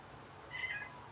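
A calico cat lets out a single short, fairly faint meow indoors against a quiet background.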